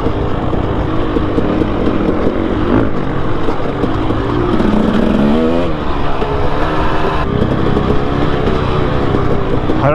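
A 2018 Husqvarna TX300 two-stroke dirt bike being ridden, its engine loud and close throughout, buzzing and revving with rises and falls in pitch as the throttle changes.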